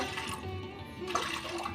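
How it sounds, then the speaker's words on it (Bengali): Water pours briefly into a metal pressure cooker, a short splashing stream close by. "প্রেশার কুকারের মধ্যে দিয়ে দিচ্ছি অল্প একটু জল"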